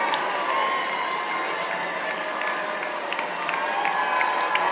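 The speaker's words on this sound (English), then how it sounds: "A big round of applause." An audience at a nurses' awards ceremony in Northern Nevada applauds and cheers, a steady wash of clapping from a crowd filling the room for several seconds.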